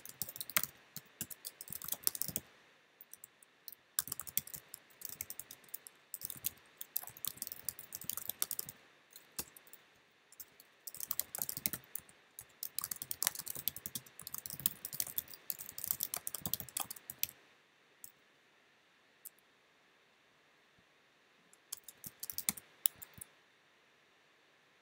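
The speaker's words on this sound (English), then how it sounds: "let me type out all these real quick" Code typed on a computer keyboard, a steady patter of close, crisp key clicks in busy bursts broken by short pauses, trailing off into near silence with a few last taps.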